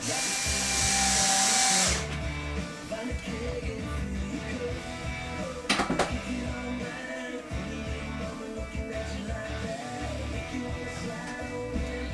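Power drill driving screws into a Revolver 50cc ARF RC airplane during its build, a loud, bright whirring burst for about two seconds, followed by steady close mechanical noise and a brief sharp clatter midway.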